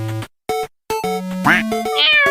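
A domestic cat meows in a quick string of short, close, loud calls, some rising and wavering in pitch, separated by brief silent gaps.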